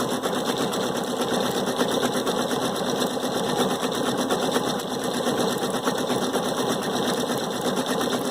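A Viking Sapphire 930 sewing machine stitches bobbin work in a fast, even, continuous whir and rattle that runs steadily and loudly throughout, with no voices.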